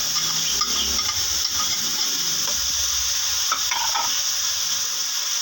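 Onions sizzle and fry steadily in a pot for a palak gosht dish, a continuous close hiss with faint stirring clatter, no talking over it.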